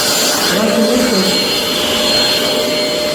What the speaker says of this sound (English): This is the worst vacuum cleaner.